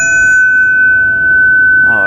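A Sabian prototype cymbal, held in the hand after being struck, rings on with a sustained, steady high metallic tone that stays loud and even, with a brief murmur at the end.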